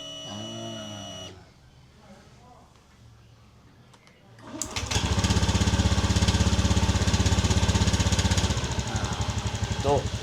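A serviced Honda Beat eSP scooter engine starts after a quieter stretch and settles into a steady, even idle with a fast, slightly clattery pulse, loud and close, with brief speech near the start.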